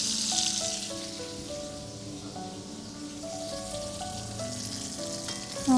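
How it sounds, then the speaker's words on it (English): Salmon frying in a pan with a continuous crackling sizzle, steady and close, no voices. "So our salmon is now cooked, sizzling away."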